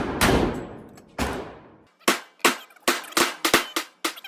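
Nine sharp gunshots from a Tisas ASF 1911 US Army .45 pistol fired left-handed at 10 yards outdoors, the first two with long ringing decay, then seven quicker loud cracks in an uneven string, no talking.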